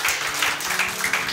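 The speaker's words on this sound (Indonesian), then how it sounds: "Berikan tepuk tangan bagi Tuhan kita." A church congregation applauding, a short burst of dense clapping at fairly loud level, close and continuous for a moment.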